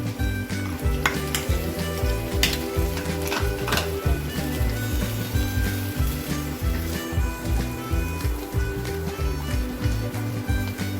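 Paneer gravy with curd sizzling in a pan on high flame as it is stirred, a steady frying hiss with repeated scraping and clinking of the spoon against the pan, close and continuous.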